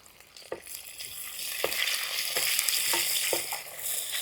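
Crushed shallots and onion fry with dried red chillies in a pan: a steady, close hiss of sizzling oil, broken by a few sharp clacks of a spoon stirring.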